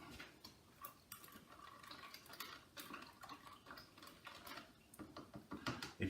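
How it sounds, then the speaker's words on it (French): Ingredients for sweet and sour tofu being stirred together in a dish, a spoon knocking and scraping against the bowl in irregular close clatters, fairly quiet. "on mélange le tout"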